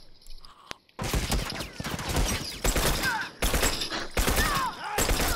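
Video game gunfire in The Last of Us Remastered: after a quiet start, rapid repeated shots burst out in loud, dense volleys with short gaps, sounding close and continuous.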